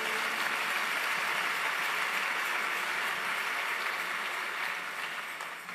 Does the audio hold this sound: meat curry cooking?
no